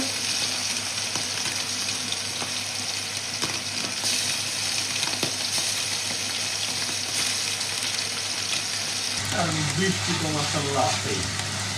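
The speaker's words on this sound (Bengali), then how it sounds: "এদিকে পুঁটি মাছ ভাজা হচ্ছে" Small puti fish fry in hot oil with a dense, steady sizzle and bubbling crackle throughout, close up, with a brief burst of louder spattering near the end.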